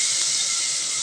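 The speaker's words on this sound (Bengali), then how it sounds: "পেঁয়াজগুলো ভাজা হয়ে গেছে, এবার আমি সব মশলা দিয়ে দিব।" Ground spices hit fried onions in hot oil for a lentil and Malabar spinach dal, giving a loud, steady, close sizzle with no break and no voices.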